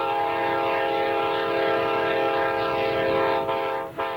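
An eastbound Coast Starlight passenger train crosses the beach at Surf, California, producing a loud, steady rolling rumble with sustained horn tones layered over it for several seconds.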